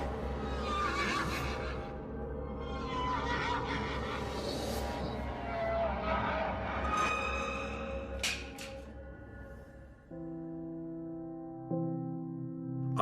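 Horses in a stable whinny and neigh in long, shrill, wavering calls, loud and close, over a steady low rumble, ending with a couple of sustained tonal notes.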